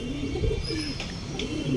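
A broad-chested pigeon of an old racing bloodline coos in low, soft, repeated calls, close and steady against a constant background hum.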